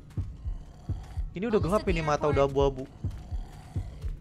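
Slow, low game heartbeat in Left 4 Dead 2, regular dull thumps running steadily beneath someone talking in the middle of the stretch.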